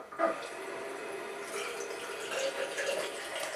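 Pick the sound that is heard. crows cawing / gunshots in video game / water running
water running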